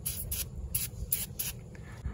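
Silicone spray is applied to a car shock absorber in several short bursts of bright hiss, close by, separated by brief pauses over a low background hum.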